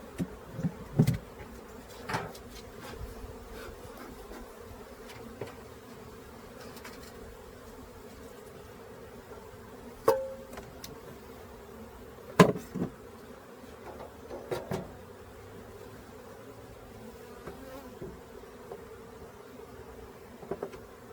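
Bees hum softly around a brand new hive, a faint continuous drone with occasional louder knocks and bumps from handling the hive equipment.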